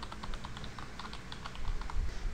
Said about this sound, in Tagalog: Ito naman yung tunog niya habang nagtatype ka.